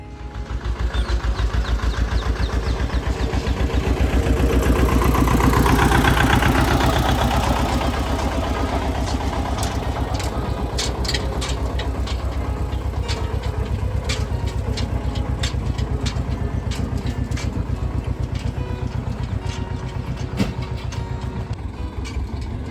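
A tractor loaded full of castor beans on a Gujarati farm idles steadily at close range, its engine chugging in a continuous, even rhythm with a slightly louder patch early on.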